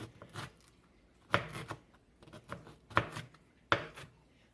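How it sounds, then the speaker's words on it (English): A kitchen knife roughly chops Brussels sprouts on a cutting board in a few quiet, uneven bursts of sharp thuds and crunches spread across a few seconds. "I'm just rough chopping these."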